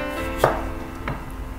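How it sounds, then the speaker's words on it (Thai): A knife chopping green apple into strips on a cutting board, two crisp close chops about half a second apart, loud and alone. "สำหรับแอปเปิ้ลเนี่ยเราจะไม่ได้หั่นเป็นลูกเหลานะแต่เราจะหั่นเป็นเส้น"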